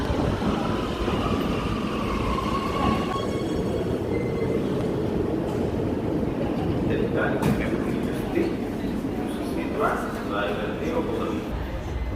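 A train rumbles steadily throughout with a low, continuous roar and occasional rattles, while people talk over it.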